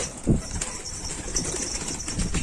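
Pigeons flap their wings as they take off, several loose bursts of wingbeats close by with a faint coo in the background, no talk.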